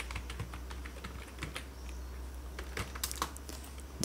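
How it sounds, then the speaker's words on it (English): Computer keyboard keys pressed during 3D modeling software work, a steady run of light, quick clicks up close over a constant low hum, with a slightly louder burst of taps near the end. "then hit Alt G on your keyboard"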